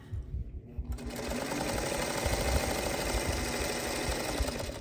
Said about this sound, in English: always have little scraps of fabric at the ready to run underneath my presser foot in between little segments